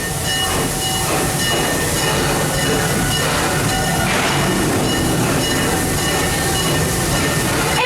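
An amusement park train at Busch Gardens rumbles along steadily with a constant broadband hiss and rattle of wheels, sustained throughout without pause.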